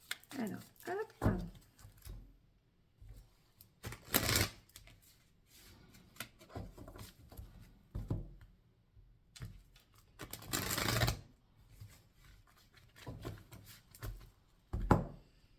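Oracle cards being shuffled and cut by hand, a few soft papery riffling bursts spaced apart with a brief voice between them.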